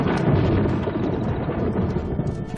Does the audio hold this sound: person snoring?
no